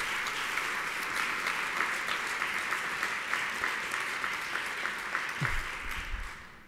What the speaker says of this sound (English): That was the most extended applause anyone got today, Chantel.